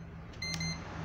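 A multimeter in continuity mode gives a short, steady electronic buzz, lasting a fraction of a second at moderate level above a quiet background hum.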